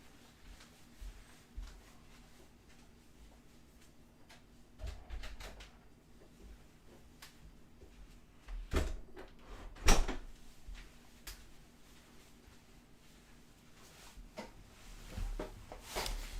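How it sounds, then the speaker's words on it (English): An indoor door is pushed shut, giving a couple of soft thumps and a firmer knock-like close amid quiet room noise, with no talk. "I just want to close the door."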